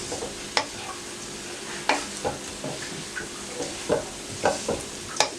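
Chicken tikka pieces fry in a hot pan while a spoon stirs them, giving a steady sizzle broken by repeated sharp scrapes and taps of the spoon against the metal.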